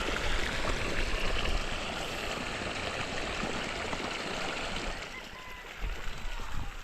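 Irrigation water pours steadily into a rice field, a continuous close rushing and splashing flow with a slight dip near the end before surging again.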